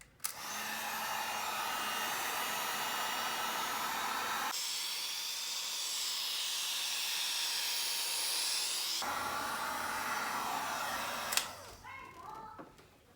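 A heat gun reheats the adhesive along the edges of a stock Nissan 350Z headlight: a loud, steady blowing roar close by that changes tone twice as the gun shifts, then cuts off near the end.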